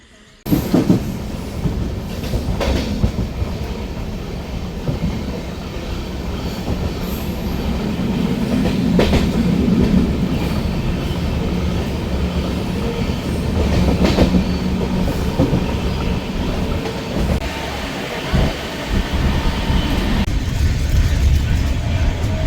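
A train arriving at Tarapith rumbles along the rails with rhythmic clickety-clack and occasional squeals, a loud continuous mechanical roar throughout.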